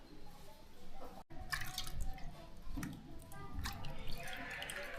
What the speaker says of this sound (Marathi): इथं मी पाण्याने कैरी स्वच्छ धुवून घेते